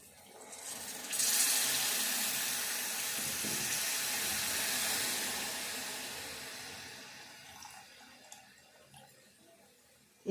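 Boiled raw tamarind soup pours into a pot, a close, hissing splash that starts abruptly, runs for several seconds and slowly fades, ending with a few light clinks.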